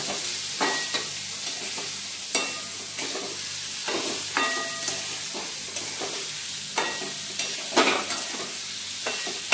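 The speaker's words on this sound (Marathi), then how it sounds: "आता हा आता जरा हलवते नीट." Onions frying in a pan, stirred and turned with a spatula: a steady close sizzle broken by repeated scraping strokes and light clinks against the pan, no speech.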